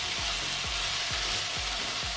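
Spinach and minced garlic frying in a pan, a steady hissing sizzle with regular soft thumps as the greens are moved around, close and continuous.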